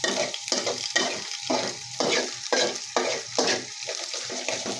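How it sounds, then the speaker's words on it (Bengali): Minced chicken being stirred into macaroni and noodles frying in a pan: a steady run of close spatula scrapes and tosses over a constant sizzle, with no talking. "মুরগির মাংস মিলানো হচ্ছে"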